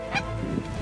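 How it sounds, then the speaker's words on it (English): Snow geese and Ross's geese honking as flocks arrive at a waterfowl hunt in Saskatchewan: a short, loud burst of overlapping goose calls, close and busy, with no talk. "it turned into a snow goose and Ross's goose shoot of note"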